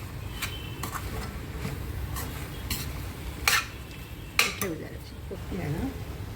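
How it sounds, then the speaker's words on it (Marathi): Chicken keema with chopped coriander stir-fried in a pan, a low sizzle under repeated spatula scrapes and metallic clinks against the pot, close, with no one speaking. "आता हे चांगलं परतून घेते।"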